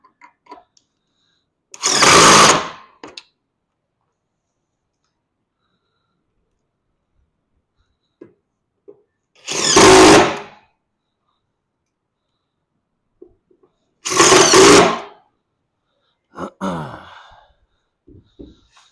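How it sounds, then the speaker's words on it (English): A power drill drives screws into a camper's deck board in three separate loud bursts, each under a second long, with quiet gaps and a few faint clicks between them. "we're gonna go ahead and use normal screws to screw down into the deck board right here"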